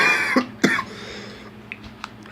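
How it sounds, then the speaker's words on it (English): A man coughs twice in quick succession close to the microphone, followed by a quiet pause with faint small sounds. "sorry for the cough back there"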